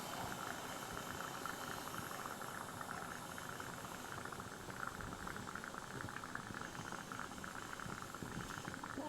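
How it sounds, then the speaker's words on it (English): Water boiling in a pot on a Firemaple Volcano alcohol stove, a steady soft rushing hiss and bubbling that stays even and fairly quiet throughout, with no voices. "I don't know whether the sound is the water boiling in the pot."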